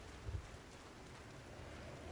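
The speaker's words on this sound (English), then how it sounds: "It's foggy, it's raining, and it's windy." Steady rain and gusting wind in the game Project Zomboid, a faint, continuous broadband hiss with a low rumble and a brief soft thump early on, no voices.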